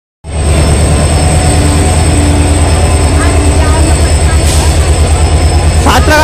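A WP4-hauled local train bound for Santragachi roars close by, starting abruptly and holding a loud, steady engine drone with a rhythmic clatter of wheels over rail joints for several seconds.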